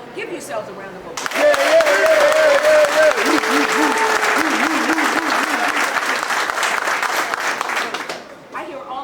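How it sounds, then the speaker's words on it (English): An audience inside Richmond City Jail breaks into loud, sustained applause lasting about seven seconds, with a voice heard just before it starts and voices mixed into the clapping. "give yourselves a round of applause"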